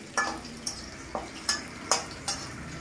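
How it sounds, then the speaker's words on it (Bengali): Green chilies frying in oil in a pan as a tempering for a mixed vegetable dish, with spatula strokes scraping and clinking roughly every half second over a low, steady sizzle. "দেখতেই পাচ্ছেন বন্ধুরা কী করে আমি ভাজছি"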